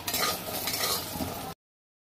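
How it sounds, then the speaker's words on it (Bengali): Lentil dumplings (bori) fry in hot oil in a pan before going into a chal kumro ghonto, a loud, close, hissing sizzle with light clinks of a utensil, then silence. "লাল করে ভেজে নেব বড়িগুলোকে ভালো করে,"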